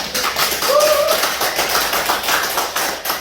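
A close audience breaks into clapping in a pulsing, uneven patter, loud and near, with a brief voice or whistle-like tone rising over it early on.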